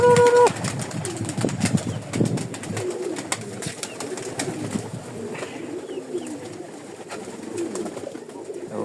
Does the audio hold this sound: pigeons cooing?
yes